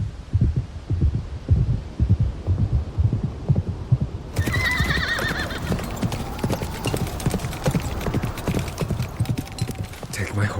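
A horse heard close up in an audio roleplay, hooves clopping in a steady rhythmic beat, then a loud whinny rising over continued clopping and a low hum.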